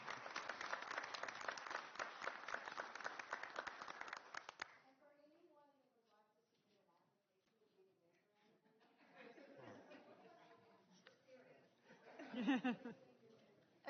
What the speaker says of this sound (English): If we can give them a big round of applause for all they do, I appreciate it.